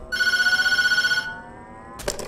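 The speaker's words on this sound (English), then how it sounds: "Most nights after wrapping up Tattletail, the phone will ring" A telephone rings in the horror video game Tattletail, one sustained electronic trill of rapidly pulsing tones lasting about a second, followed by a short silence and then a brief burst of noise.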